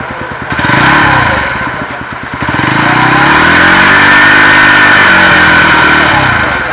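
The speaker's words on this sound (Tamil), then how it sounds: "என்னோட எக்ஸாஸ்ட் சவுண்ட் பார்க்கலாம் வாங்க." Bajaj Pulsar NS 125 motorcycle idling close by with a steady exhaust note; the engine is blipped once early on and then settles into an even, continuous run.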